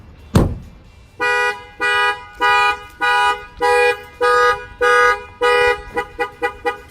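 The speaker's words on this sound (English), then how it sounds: "The alarm went off." A Viper car alarm sounds close by after a thud: a series of loud, even tonal blasts in steady rhythm, quickening into short chirps at the end.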